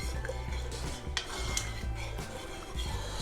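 Broccoli cheese soup being stirred in a pot, with a steady scraping and swishing of the utensil against the pot running throughout, plus a couple of sharp clinks, close and moderately loud.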